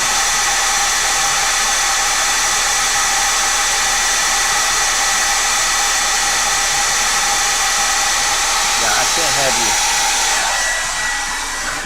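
Hair dryer blowing on a paper sketch, a loud steady close whoosh that holds throughout, easing slightly in pitch and level near the end.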